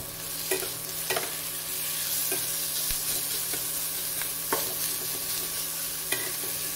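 Steady oil sizzle as figs and onion fry, with repeated scraping and clacking of a utensil stirring the pan, close and continuous, no voices.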